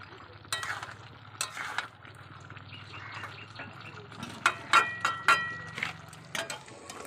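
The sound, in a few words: meat frying in a pan while the water cooks off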